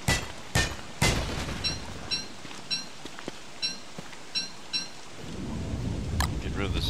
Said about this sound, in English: This rain ain't helping, I can tell you that right now.